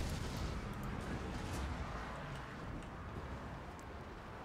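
Artillery units firing in the Total War Warhammer battle game: a continuous dense rumble of booming shots and distant blasts, loud and steady, with no voices over it.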